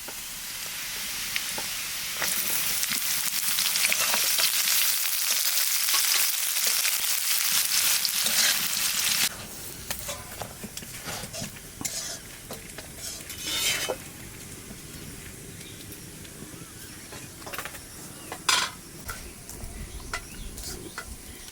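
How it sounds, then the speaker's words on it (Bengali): Chopped garlic and onion sizzle loudly in a hot pan for mutton kala bhuna. The frying starts abruptly, then gives way to quieter crackling with occasional stirring and utensil clinks, and no one speaks. "এইবার দেবো দা রসুন কুচি আর দেবো কটা পেঁয়াজ"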